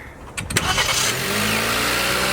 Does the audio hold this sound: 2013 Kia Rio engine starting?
yes